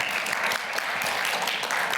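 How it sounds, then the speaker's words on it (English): A live podcast audience at the IAAPA 2022 expo gives a round of dense, steady applause that fills the room for about two seconds, with no talking over it. "One more round of applause."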